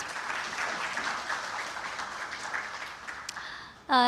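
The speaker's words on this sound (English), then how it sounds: "I would request everyone to please join me in welcoming them with a huge round of applause." An audience at a conference inaugural session applauds to welcome speakers, steady moderate clapping that gradually fades, followed by a brief burst of another sound at the end.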